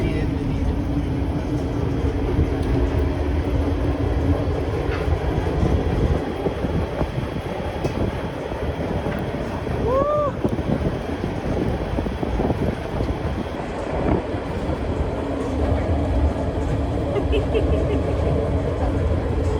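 White Pass Railway train in Skagway, Alaska, riding the tracks with a steady, continuous rumble and rattle of the cars throughout, broad rolling noise close by with no talk over it.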